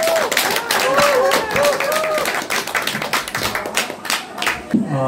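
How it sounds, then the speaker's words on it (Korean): Lecture-hall audience welcoming a poet with applause, many hands clapping at once over a few seconds, with a voice over the start before the clapping thins out. "여러분 뜨거운 박수로 우리 오민석 시인님을 맞아주십시오."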